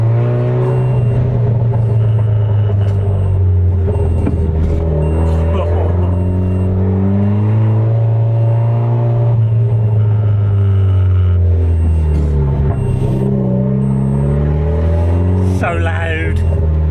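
A loud 330 BHP Vauxhall Corsa VXR drives with a heavy, droning engine and exhaust rumble, rising and falling as it revs, steady throughout with a voice talking over it.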